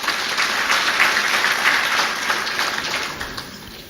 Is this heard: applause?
yes